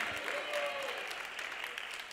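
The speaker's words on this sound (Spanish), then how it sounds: "Dele un aplauso a Jesús." A church congregation claps together during a Spanish-language sermon, a brief steady burst of applause heard at a moderate distance with a faint tone gliding beneath it.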